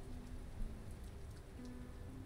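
Rain falls in the survival game Mr Prepper, a steady, close patter of drops hitting a surface with no talk over it.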